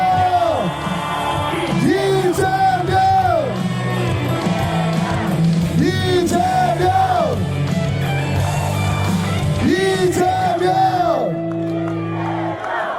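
Large crowd at an outdoor Korean presidential campaign rally in Iksan shouting and chanting together, with swelling, rising cheers repeating in waves over a loud amplified backdrop.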